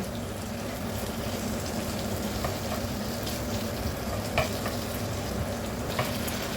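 Small portions of chicken liver fry in a pan, giving a steady, close, even sizzle with faint spatters and occasional light pops.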